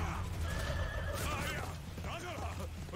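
A horse whinnies in the anime Vinland Saga, a high wavering neigh rising over a low rumble of hooves and commotion, fairly loud and prominent.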